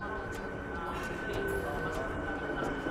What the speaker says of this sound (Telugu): ట్రైన్ అయితే వచ్చేసింది కాక